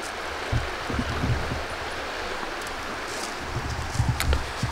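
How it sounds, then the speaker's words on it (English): A forest stream at a free camping spot runs as a steady close wash of moving water, with a few soft low bumps and faint rustles over it. "It's a pretty nice stream."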